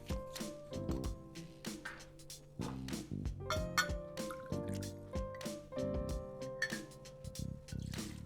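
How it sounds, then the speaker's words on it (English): Gin pours and trickles into a cocktail shaker in short, uneven glugs and splashes, close and fairly quiet, with no talking. "Pour that into our shaker"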